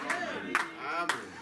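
A church congregation clapping during a French-language worship service, three sharp bursts of applause about half a second apart, fairly close, with murmuring voices underneath.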